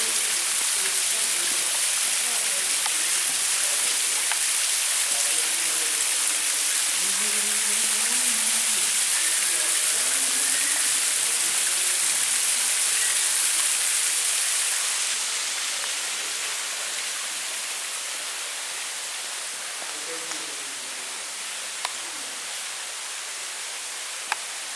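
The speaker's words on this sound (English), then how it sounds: "Waterfall." A waterfall inside the Lost Sea cave in Sweetwater sends up a steady, loud hiss of falling water that drops slightly in level partway through, with faint voices murmuring beneath it.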